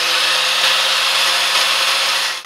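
An angle grinder whines steadily and loudly without a break during building renovation work, a dense high-pitched noise that fills the whole stretch.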